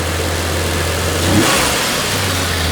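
Jeep Cherokee XJ with a 4.0 engine runs with a loud intake roar, a steady drone that swells into a brief rev near the middle before settling back to a high idle, close and continuous with no talk.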